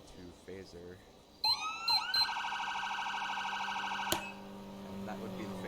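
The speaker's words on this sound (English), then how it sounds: "and that would be the phaser siren" In GTA V FiveM, a police car's phaser siren starts with a couple of quick chirps, then holds a steady pulsing electronic wail for a few seconds before cutting off with a sharp click, loud over faint background noise.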